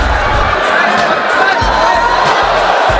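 A large arena crowd roars and cheers during a UFC fight involving Conor McGregor, a loud continuous swell of voices with bursts of excitement, commentators' talk faint beneath.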